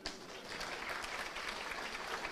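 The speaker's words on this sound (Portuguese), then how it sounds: "Aplaudam vocês," Audience applause at a talk: dense, continuous clapping from a crowd, steady and fairly distant, filling the short moment with no speech over it.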